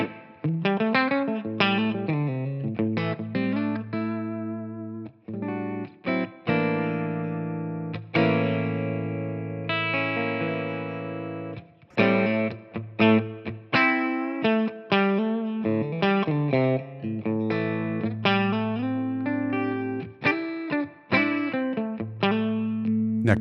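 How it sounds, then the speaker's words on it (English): A Vigier Expert Series Strat-style guitar on its bridge single-coil pickup plays through a clean, neutral amp setting, with ringing chords and single-note lines sustaining, loud and clear with no talking. "Here I have my Vigier Expert Series Strat style guitar on the bridge pickup. Here I am on the clean neutral setting."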